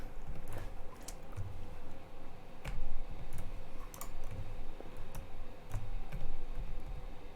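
Laptop keys are pressed in irregular bursts, with crisp clicks and taps scattered over several seconds, close by and moderately quiet.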